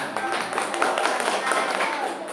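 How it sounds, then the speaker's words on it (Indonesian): Classroom applause after a student group's report, a dense steady patter of many hands clapping together for a couple of seconds, fairly close and moderately loud. "Tepuk tangan."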